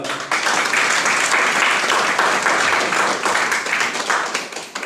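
Loud, steady applause from a seated audience in an indoor hall, many hands clapping continuously with a brief dip near the start and a slight fade at the end.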